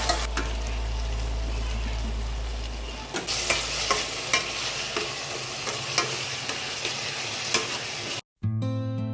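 Curry leaves sizzle in hot oil for pav bhaji and are stirred with repeated scraping strokes, making a loud crackling fry that runs nearly throughout before a brief cut.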